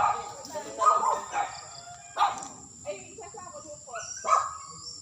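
A dog barks several times in short, separated bursts at close range, with people talking in between the barks.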